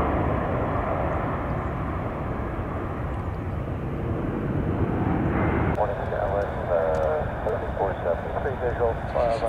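A Boeing 747 taxis at San Francisco International Airport with a steady, loud jet-engine rumble and whine. Voices, like radio chatter, come in over it partway through.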